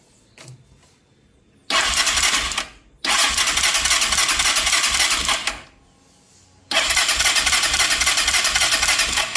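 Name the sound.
motocarro engine starting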